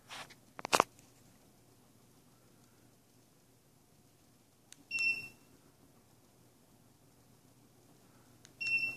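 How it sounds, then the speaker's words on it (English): A ceiling fan's receiver gives two short electronic beep pairs, a few seconds apart, after a brief clack, in a quiet room with no voices. "You can tell by the beeping."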